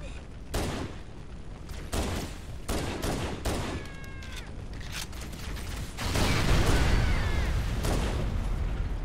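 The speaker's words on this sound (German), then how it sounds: "Hier explodiert gerade einfach mal alles. Vielleicht, weil ich drauf geschossen habe." Bursts of gunfire and explosions in Halo: Combat Evolved Anniversary, sharp cracks and rolling booms, growing louder and more continuous toward the end.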